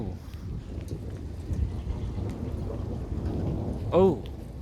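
Rain pattering steadily through a thunderstorm, with low rumbling thunder throughout and a brief louder burst near the end; a person's voice exclaims faintly at moments.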